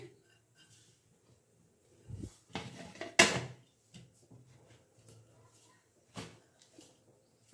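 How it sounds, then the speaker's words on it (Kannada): A metal lid is set down on an idli steamer pot of rava idli, giving a few sharp clanks and knocks, the loudest in the middle, with quieter kitchen handling sounds between them. "ಇಡ್ಲಿ ಪಾತ್ರೆ ಮುಚ್ಚಳ ಮುಚ್ಚಿದ್ದೀನಿ"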